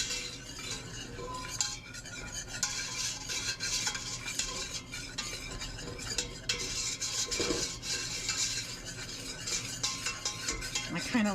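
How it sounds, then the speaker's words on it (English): A flour mixture being whisked briskly in a pan, with continuous rhythmic metal scraping and clinking and a light sizzle underneath, close and steady throughout. "And whisk that real good."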